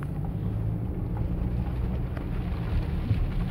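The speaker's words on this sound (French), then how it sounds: "On peut voir la pluie." Rain falling on the glass roof of a Range Rover in Marrakech, a soft continuous patter with low rumbling vehicle noise underneath and a few faint drop ticks.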